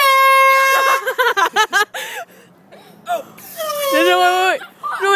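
A Dollar Tree air horn blasts loudly at the start and sounds in several short honks, then a long wavering honk near the end, with people talking and laughing between blasts.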